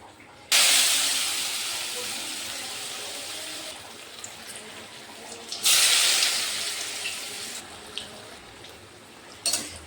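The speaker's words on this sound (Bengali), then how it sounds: "এপিট উপিট করে ভেজে নেব" Bread pieces coated in gram flour batter hit hot oil with a loud sizzling hiss, then a second batch is dropped in and flares up again, each burst fading to a steady bubbling fry.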